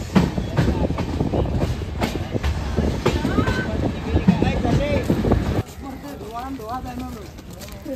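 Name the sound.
train at railway station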